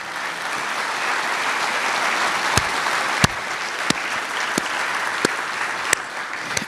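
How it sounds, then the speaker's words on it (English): An audience at SUNY Oswego's State of the University speech gives a sustained round of applause, a steady crowd of clapping hands with several loud, distinct claps popping out near the front. "You really have to give everybody a round of applause here."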